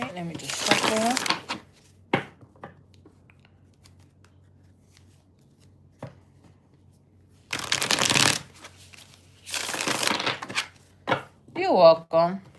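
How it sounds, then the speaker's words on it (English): Tarot cards being riffle-shuffled at close range, several separate bursts of rapid fluttering card riffles with pauses and light taps between them, and a person talking briefly at the end. "All right, let me just shuffle."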